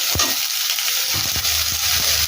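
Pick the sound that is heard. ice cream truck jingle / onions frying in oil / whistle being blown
onions frying in oil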